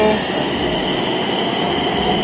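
A Nagpur metro train pulls into the station with a sustained, loud rushing hum and a faint high whine, steady throughout without voices.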